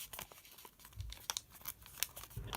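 Origami paper is pinched from a valley fold into a mountain fold, giving soft close crinkles and papery crackles in quick, uneven bursts, with no talk.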